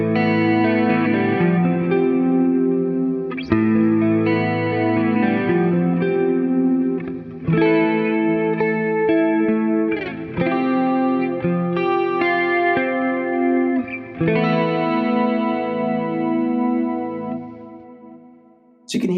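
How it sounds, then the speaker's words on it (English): Clean electric guitar run through a Quad Cortex with chorus, compression, ping-pong delay and modulated reverb, ringing sustained chords and arpeggiated phrases with shimmering repeats bouncing between sides, played alone at a loud, steady level. "it's a nice kind of pure clean tone with a lot of effect on it. You got the nice chorus up front with some compression"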